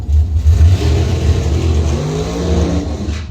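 Drag race cars rev at a dragway during a 2022 bracket racing event, a loud, continuous, deep engine rumble that surges and holds without any talking.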